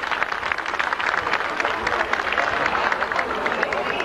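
A congregation of Franciscan faithful applauds at a religious procession for Saint Jude Thaddeus in Callao, steady dense clapping with crowd murmur running throughout at moderate loudness.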